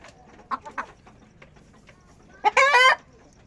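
A hen that has just laid an egg clucks nearby: a few short, separate clucks, then a loud, drawn-out squawking cackle near the end.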